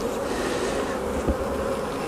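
Honeybees being transferred from a nucleus box into a full hive buzz loudly and continuously close by, a dense swarm drone with a brief knock of equipment partway through.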